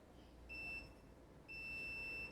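Two high, steady electronic beeps from a multimeter in continuity mode, each lasting about a second, sound close by in quiet surroundings during a Moto G6 phone repair.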